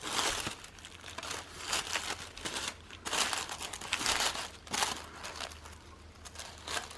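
Layers of white tissue paper in a tissue-paper flower kit are pulled and crinkled by hand, making soft, continuous rustling and crackling close by in uneven waves, with no talking.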